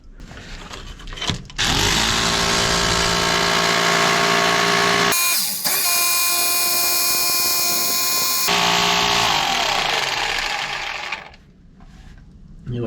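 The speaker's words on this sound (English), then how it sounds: "But I'll put the jackhammer bit on and I'll do a bit of jackhammering and see." A jackhammer bit on a power drill breaks into rock, a loud continuous rapid hammering that runs nearly the whole time with a short pause in the middle and a quieter stretch near the end.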